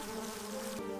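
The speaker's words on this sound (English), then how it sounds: "The buzzing is louder now." Insects buzz steadily as they swarm out of tiny holes in a shed wall, a close, continuous drone with a slight shift near the end and no talking.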